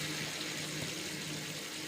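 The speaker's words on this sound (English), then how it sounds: "So we are pouring in the milk." Coconut milk poured into pasta in a pan over a reduced flame, a steady continuous splashing pour that runs unbroken throughout, fairly loud and close, with no talking.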